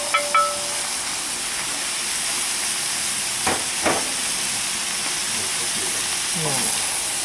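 Vegetables sautéing in olive oil in a pan, a soft steady sizzle and hiss running throughout, with a few brief clinks and a faint voice.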